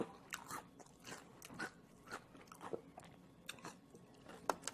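Someone bites into crispy fried vegetable tempura, including battered purple flowers, and chews it. Sharp, close crunches come in an irregular rhythm for several seconds, quiet overall with no talking.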